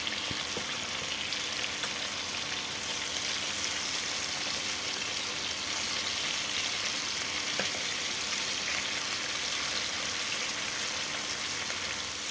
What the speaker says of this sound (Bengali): হয়ে গেছে মাছ ভাজা।